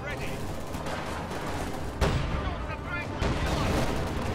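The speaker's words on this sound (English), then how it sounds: "This Grenadier squad firing a rifle grenade of its own." A grenadier squad launches a rifle grenade in a World War II strategy game battle, a sharp blast followed by another heavy detonation amid ongoing rattling gunfire and explosions.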